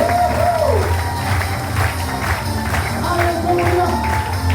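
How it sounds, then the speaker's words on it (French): A holiday resort crowd on a February evening in Ceillac keeps up dense applause and cheering, a steady roar of clapping with whoops and shouts, loud and close throughout. "un tonnerre d'applaudissements pour Cédric, s'il vous plaît."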